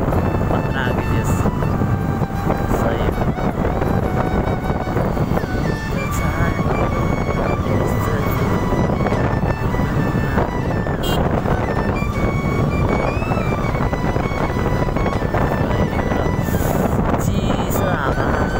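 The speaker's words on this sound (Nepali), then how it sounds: "चिसो हावा सही मजा आयो।" Cold morning wind roars and buffets constantly against the microphone of a scooter in motion, loud and unbroken throughout.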